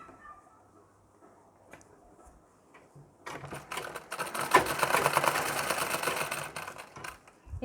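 Sewing machine stitching a seam on a blouse lining with matching thread, starting after quiet handling with a rapid, steady mechanical whir that runs for several seconds close to the microphone, then stops.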